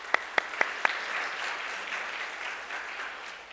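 Church congregation applause, opening with a few loud, distinct claps close by, then settling into a steady, softer wash of clapping from the room.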